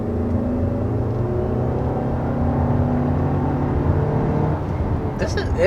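A 2022 Audi Q3's 2-liter turbocharged four-cylinder pulls under steady acceleration, a continuous engine drone with rising harmonic tones heard from inside the cabin, fairly loud throughout.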